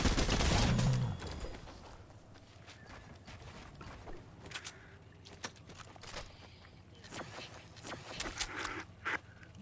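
Shotgun fire in Fortnite. A loud blast opens, then sharp scattered shots and clatter follow irregularly, with footsteps and other game noise between them.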